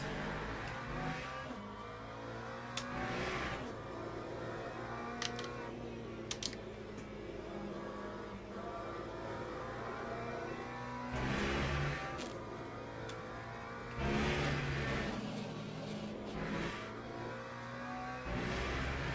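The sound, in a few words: McLaren GT3 race car engine at COTA, sim racing video game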